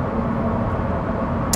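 A Lamborghini Huracan STO's engine roars steadily from inside the car, a loud, sustained low growl that holds even throughout.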